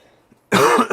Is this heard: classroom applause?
no